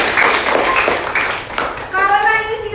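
Sixth-grade primary school classroom in Indonesia, children clapping their hands in a burst of loud, quick claps while young voices speak, ending with a voice speaking clearly.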